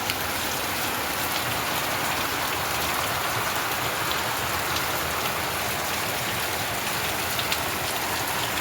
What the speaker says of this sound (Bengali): জোরতে বৃষ্টি হচ্ছে, খুব বৃষ্টি হচ্ছে আর বৃষ্টির শেষ নেই